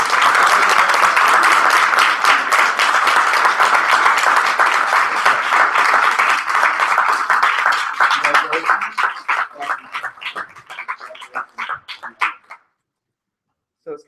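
Audience applause at the Shirley Classic 2014 finals, Michigan AP versus Northwestern MV: a dense, sustained wall of clapping that thins into scattered individual claps and fades out near the end.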